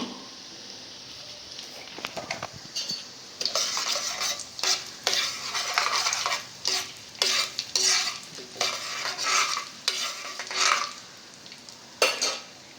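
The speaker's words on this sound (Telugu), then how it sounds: "తాలింపు గింజలు వేసేయండి నూనె కాగానే" Tempering seeds, urad dal and mustard, frying in hot oil for a coriander pickle, crackling and sizzling in bursts as a utensil stirs against the pan, close and loud.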